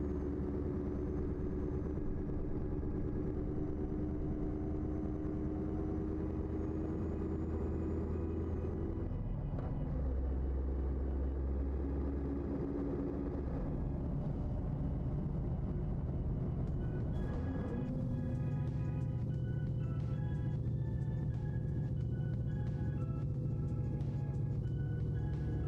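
A worn, high-mileage engine from a video game mod idles and runs with a steady low rumble and droning hum, shifting pitch partway through, with no voices over it.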